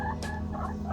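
Pet backyard hens vocalizing in short, low murmuring calls close by, a couple of brief bursts over steady background hum.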